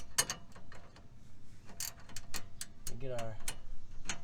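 Ratcheting wrench clicking in short bursts while turning a tie rod nut on a 2017 GMC Sierra, close and fairly quiet, with someone speaking briefly over the ticks.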